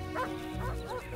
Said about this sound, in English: The bears know that where dogs bark, humans are never far away